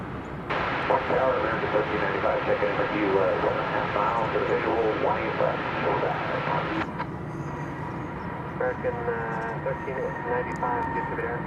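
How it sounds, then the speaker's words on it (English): A Boeing 787-8 airliner at DFW Airport gives off a steady engine rumble under continuous talking, with the background noise dropping partway through. "So that's a 7878, but it's flight 777, and it's going to Las Vegas"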